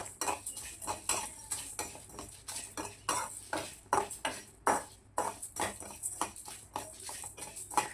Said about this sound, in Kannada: ಈಗ ಇದನ್ನು ನಾನು ಚೆನ್ನಾಗಿ ಫ್ರೈ ಮಾಡ್ಕೊಳ್ತೀನಿ.